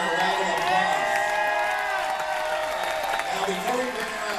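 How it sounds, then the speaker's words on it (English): A theater crowd at a music hall of fame induction claps and cheers steadily throughout, broad dense applause with whoops mixed in and a voice talking over it. "let's give her a round of applause"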